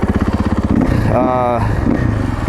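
A KTM 450XCF-W dirt bike engine runs steadily close by, a continuous mid-pitched drone with a brief rise in revs partway through, while someone talks over it throughout.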